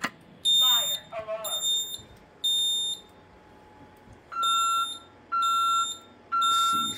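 A fire alarm on a Honeywell Vista 20P system, set off from a pull station during a system test, sounds in loud, repeating electronic beep bursts, each about a second long with short gaps. People talk briefly near the start.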